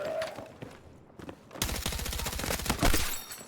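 KORD-6P67 rifle firing in Battlefield 6, a few scattered shots followed by a rapid stream of closely spaced gunfire with sharp, loud reports and short bursts.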